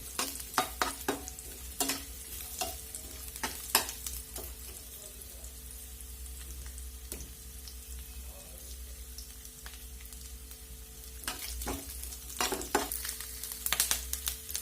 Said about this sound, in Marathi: इथं खोबरं भाजून घेणार आहोत आपण तेल तापलेलं आहे